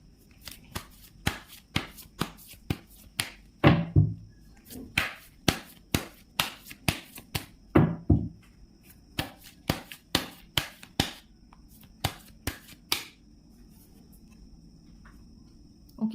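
A tarot deck is shuffled by hand in crisp, close, repeated bursts of card slaps, roughly one or two a second at a fairly loud level, with a brief pause near the end.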